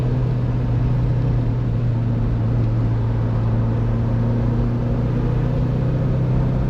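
A 1966 Alfa Romeo Giulia Sprint GT Veloce on the move, heard from inside as a steady droning engine hum with road rumble and no change in pitch throughout.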